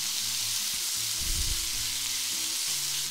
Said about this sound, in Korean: 자, 이렇게 볶아줍니다.